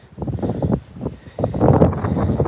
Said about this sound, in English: it's windy as hell here